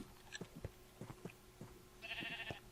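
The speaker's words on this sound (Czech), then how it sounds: "To je ovce!" Minecraft sheep bleat several times in short, moderately loud calls with gaps between them, joined near the end by a brighter tonal game chime.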